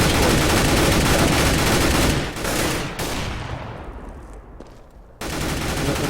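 Sustained gunfire spraying through walls in a Counter-Strike match on de_mirage, loud and continuous, breaking off briefly before a final burst resumes.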